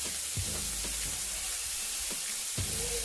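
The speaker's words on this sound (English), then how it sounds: "I'm just going to let it fry a bit." Liver and vegetables frying in a pot, a steady close sizzle and hiss with a few soft clinks from stirring, no voices.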